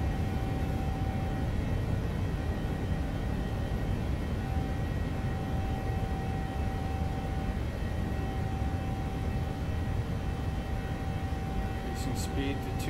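Steady airplane engine drone from a flight simulator game, a continuous broadband roar with a faint steady tone, holding level throughout with no talk.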